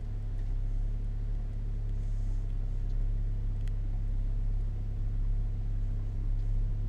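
Car rolling slowly across rough, abandoned ground at an old pottery dump site in Northeastern Ohio, a constant low engine rumble and road drone from inside the vehicle, with faint occasional knocks.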